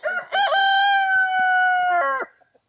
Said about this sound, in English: So now he's crowing.